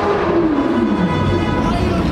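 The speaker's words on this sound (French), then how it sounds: "C'est une Aventador Ultimae." Lamborghini Aventador Ultimae supercar driving past on a street in Knokke, a loud engine note with a falling pitch as it passes close by, over steady crowd chatter and voices talking.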